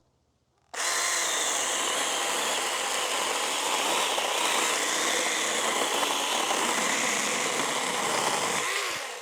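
A Chinese cordless chainsaw starts abruptly and runs at a steady, loud whine as it cuts through thick fresh wood almost under its own weight, continuing without pause before easing off at the end.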